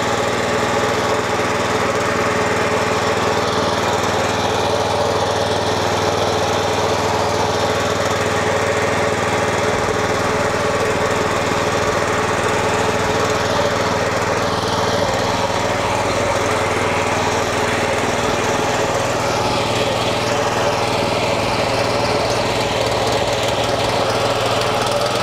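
An Evotools T1300 13 HP motor tiller runs in first gear, its small engine putting out a loud, steady, buzzing drone close by for the whole stretch, with no voices.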